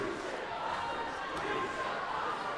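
Crowd at a university MMA fight night roars and cheers in a continuous, fairly faint wash of voices, with shouts rising over a steady background of chatter in a large hall.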